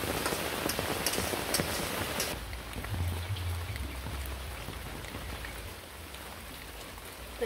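Steady rain pours down outside a kitchen on a rainy day, a dense continuous hiss of drops on surfaces, louder at first and then settling into a softer even patter, with no talking.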